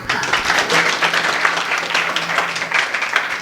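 An audience at a Marathi kirtan claps steadily in a dense, continuous wash of applause that carries on for the whole stretch without pause.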